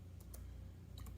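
A few soft, faint keystroke clicks on a computer keyboard in a quiet room, scattered taps over a low background hum.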